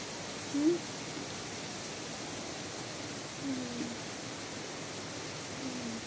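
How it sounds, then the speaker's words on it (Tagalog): Heavy rain pours steadily outside, a soft, even hiss that fills the whole stretch at low volume, with a few faint brief sounds rising briefly above it. "Kasi grabing ulan, no?"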